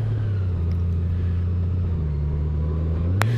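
Motorcycle with a 1833cc liquid-cooled horizontally opposed six-cylinder engine, a smooth low rumble that rises in pitch as it accelerates, steady and close, with a brief click near the end.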